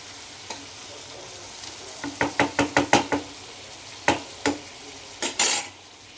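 Chicken pieces with onion frying in a pan on a low gas flame for pepper chicken, a steady sizzle under a quick run of sharp spoon knocks against the pan, then more scraping stirs.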